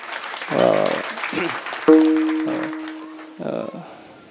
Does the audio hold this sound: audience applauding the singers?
yes